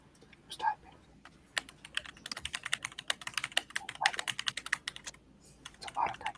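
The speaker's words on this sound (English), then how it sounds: "It's a lot of typing." Rapid, irregular typing clatters on a computer keyboard in bursts of close, crisp keystrokes, with brief pauses and a faint voice in the background.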